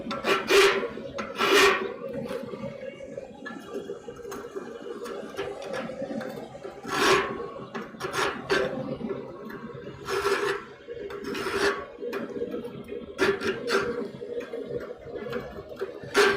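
Close, dry rasping strokes of a file across a wooden tenon and its facing surface in a smithy, coming in irregular bursts of a few strokes with short pauses between.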